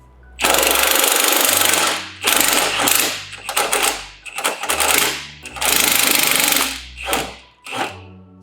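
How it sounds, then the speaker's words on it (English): An impact wrench removes panhard bar bolts on a Lexus GX460 in a loud series of about six sharp hammering bursts, separated by brief pauses, heard up close. "We are removing the pan-hard bolts because we are replacing the pan-hard bar."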